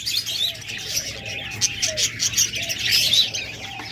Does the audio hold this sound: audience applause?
no